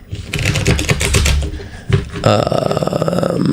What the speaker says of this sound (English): Let me shuffle again, make sure, because I'll make sure I just did a good shuffle or not.